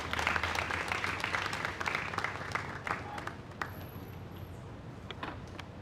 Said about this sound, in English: Brooms with a warm round of applause.